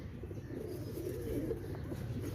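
A pigeon coos softly and repeatedly, low rounded calls rolling on with no one speaking over them, faint and steady against a quiet background.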